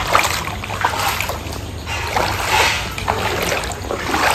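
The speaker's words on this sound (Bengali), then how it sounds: "জল পুরো বাড়িতে প্রবেশ করে গেছে।" Floodwater sloshing and splashing inside a house after heavy rain in Habra, steady close splatter and trickling for several seconds with no speech.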